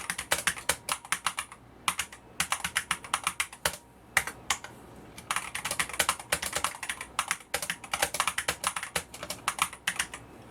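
Brisk typing on a mechanical keyboard, clicky keystrokes in bursts with short pauses, close and fairly quiet; a faint metallic spring ping rides on the key presses.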